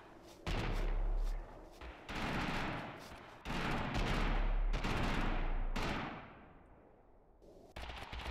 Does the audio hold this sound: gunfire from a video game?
yes